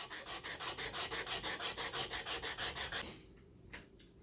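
Rhythmic back-and-forth wet sanding of sandstone with 220-grit paper, about twenty even strokes at a steady pace, close and fairly loud, then stopping into near quiet with a couple of faint taps.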